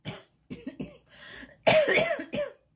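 Several harsh coughs in a row, close and fairly loud, ending in a longer, heavier coughing burst.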